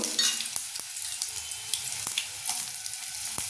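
Curry leaves and garlic crackle and sizzle in hot oil over a low flame, a soft steady fry broken by sharp pops and light stirring clicks, close by with no voices.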